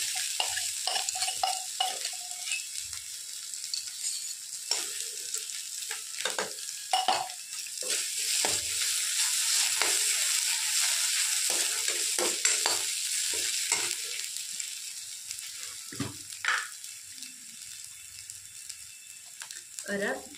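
Ginger, garlic and chili paste fries in a pan while being stirred for a village-style elephant foot yam curry. A steady, close sizzle runs throughout, broken by frequent scraping stirs and soft utensil knocks, with no talk.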